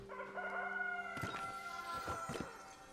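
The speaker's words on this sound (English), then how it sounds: "Did you hear that rooster?" A rooster crows in the video game Palia with a clear, bright cock-a-doodle-doo over a steady tonal hum from the game's background, followed by a few clucking bursts.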